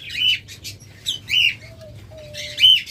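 A pair of double factor plus green opaline lovebirds chirping nearby, giving short bright calls in bursts with brief pauses, plus a faint whistle-like note in between.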